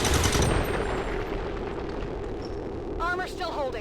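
Heavy weapon fire booms out in a tactical battle in XCOM 2, a loud blast at the start decaying into a rumbling tail, followed by a short burst of speech near the end.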